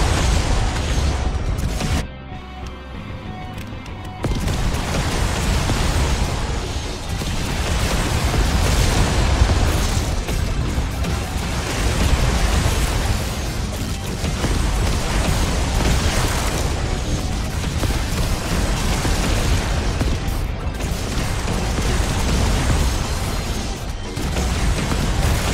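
Loud, dense barrage of rumbling explosions from airstrikes and rocket fire in the zombie survival game Yet Another Zombie Survivors, booming almost continuously with a brief lull near the start.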